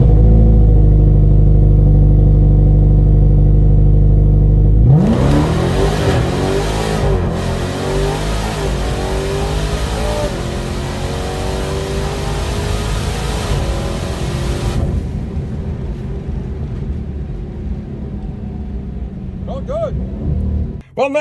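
A Dodge Demon 170 launches hard off the trans brake on a quarter-mile drag strip, a loud steady engine hold giving way to a roaring, rising run that fades into the distance.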